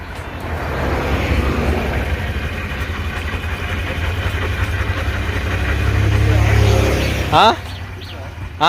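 A BS6 Honda Shine motorcycle engine running near a village mechanic, a loud steady mid-pitched idle rising slightly before cutting off, with sharp clicks near the end and voices partly under it.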